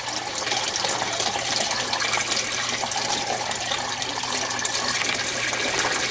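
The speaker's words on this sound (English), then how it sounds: "sucking the little bit of water that's left." An aquaponics grow bed drains as its siphon sucks out the last of the water, a loud, dense gurgling gush that stays close and constant from start to end.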